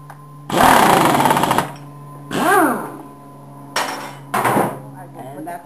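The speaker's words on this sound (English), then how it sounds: "I just use my impact to tighten them" Impact wrench tightening the pulley nuts on a scooter drive belt assembly, several short loud rattling bursts of varying length separated by pauses, close by.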